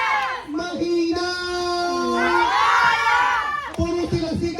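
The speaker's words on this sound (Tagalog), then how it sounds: "Puro sila sigaw!" A crowd of team members at a beach resort outing shout and cheer together in a loud, sustained burst, with a host's amplified voice calling out over them.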